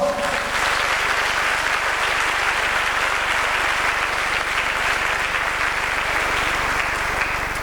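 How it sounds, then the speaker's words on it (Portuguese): A church congregation at a Brazilian celebration service applauds steadily and loudly for several seconds, a dense unbroken wash of clapping with no voices over it. "aplauda o Senhor"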